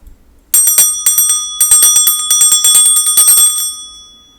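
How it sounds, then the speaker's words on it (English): A bright metallic bell rings in a rapid series of strikes, loud and close, its shimmering tone lingering and fading after the last hit. "I'm going to start by clearing the energy with my bell."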